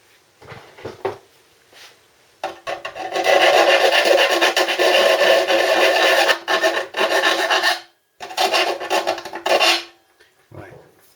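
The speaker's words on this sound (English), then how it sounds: "So just a little bit of filing on that." Rasping strokes of a metal file on a motorcycle part in a home garage, loud and close, coming in bursts with short pauses between them and no talk.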